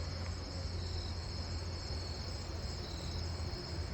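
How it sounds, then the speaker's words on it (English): A slender meadow katydid calls among other night insects in a neighbourhood, a faint, continuous high buzzing trill over steady background hum. "Oh, I think it's a slender meadow katydid"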